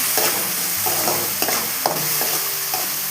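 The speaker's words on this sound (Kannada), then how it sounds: "ಎಲ್ಲ ಹಾಕಿ ಮತ್ತೆ ಚೆನ್ನಾಗಿ ಕಲಿಸ್ಕೊಳ್ಬೇಕು" Slit green chillies being stirred into a coastal-style mushroom curry in a hot pan, a soft scraping stir with steady sizzling frying underneath and a few sharper spatula knocks, close and alone.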